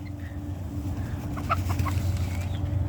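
Chickens cluck and mutter close by in a farmyard, soft irregular calls over a low steady background hum, with no talking.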